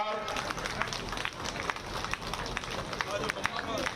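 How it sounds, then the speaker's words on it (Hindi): Crowd at a temple consecration ceremony welcoming the Chief Minister with sustained applause and clapping, a dense steady patter with crowd noise mixed in throughout. "करतल ध्वनि से खड़े होकर के स्वागत करें।"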